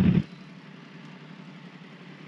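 A Yamaha MT-10 motorcycle engine runs with a steady, even idle drone that stays constant after a brief louder burst at the very start, with no talking.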